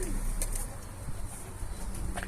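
A captured pigeon gives soft cooing calls over a steady background rumble, with a couple of brief higher notes early on and near the end.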